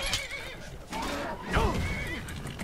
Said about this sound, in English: I just swung at my horse